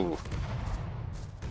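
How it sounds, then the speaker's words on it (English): Bombs exploding in the World War II flight game Finest Hour, a dense, rumbling run of booming blasts at steady loudness throughout, with a brief tonal sound at the very start. "That's some bombs down there that aren't hitting their target."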